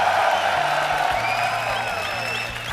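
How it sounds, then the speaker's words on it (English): A crowd at a StarCraft 2 tournament applauds and cheers in a sustained wash of noise, with a whoop rising over it and a low tone humming beneath. "If you're a fan of EG Idra in the crowd, make some noise for Idra!"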